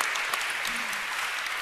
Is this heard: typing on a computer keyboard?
no